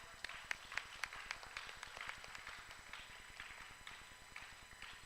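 Steady, dense clapping from a crowd at a technical seminar, many sharp claps blending into continuous applause at moderate loudness.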